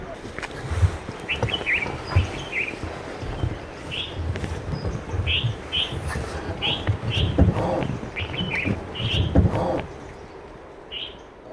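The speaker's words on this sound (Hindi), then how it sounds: "किस प्रकार से पक्षियों के चहचहाने की आवाज़ सुनाई दे रही है" Birds chirp in short, repeated high calls in a forest, with a voice speaking softly underneath.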